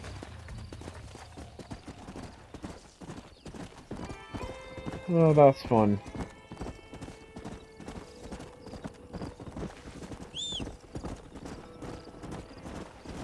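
Steady clip-clop of horse hooves in the Western video game Red Dead Redemption runs throughout, with a loud neigh partway and someone talking briefly over the rhythmic trotting.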